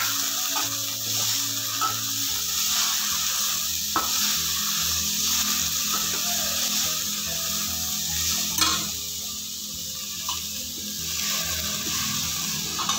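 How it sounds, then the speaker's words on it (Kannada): Chopped chilkarve greens roast in a pan with a steady sizzle and some stirring. The frying noise runs continuously throughout, close and even, with no speech. "ದಪ್ಪ ದಪ್ಪ ಕಟ್ ಮಾಡಿ ಇಟ್ಕೊಳ್ಳಿ. ಇದರಲ್ಲೇ ಸ್ವಲ್ಪ ರೋಸ್ಟ್ ಮಾಡಿ ಚೆನ್ನಾಗಿ."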